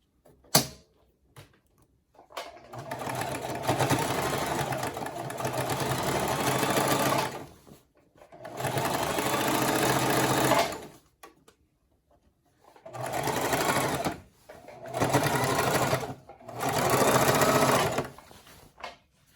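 Singer Classic sewing machine hemming a pair of pants, running in several close, loud bursts of rapid stitching separated by brief pauses, with no talk.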